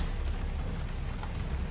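Steady rain pours down, a continuous hiss with a low rumbling undertone throughout.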